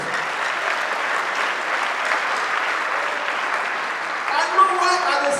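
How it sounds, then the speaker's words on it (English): An audience claps at a comedy show, a dense, steady wash of applause that stays fairly loud throughout, with a few voices emerging near the end. "I will put a clap for Jesus."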